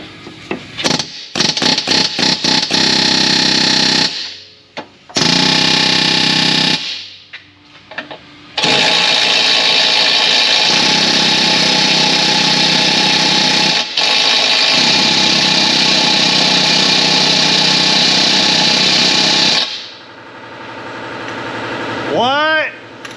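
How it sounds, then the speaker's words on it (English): An air hammer with a flat chisel rattles in loud sustained bursts against a frozen rear differential bushing on an Infiniti G37, with short gaps between runs. "Air hammer with the flat chisel."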